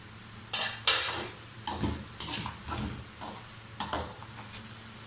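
Meat for karahi gosht, seasoned with salt and whole cumin, frying in a pot while a utensil stirs and scrapes it in irregular bursts over a soft background sizzle, with no talking.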